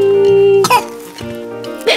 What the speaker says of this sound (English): Peppa was coughing.